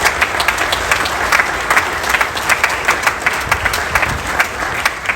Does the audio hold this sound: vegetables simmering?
no